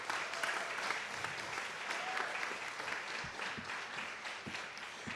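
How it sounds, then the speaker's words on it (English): An audience at a pitch competition applauds with sustained, dense clapping throughout, steady and fairly distant, with no voices over it. "One more round of applause for our fellows."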